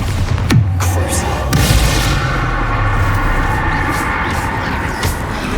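A Bombarda spell explosion in Hogwarts Legacy, a sharp blast followed by a loud rumbling boom amid continuous game combat noise, close and dense with further impacts.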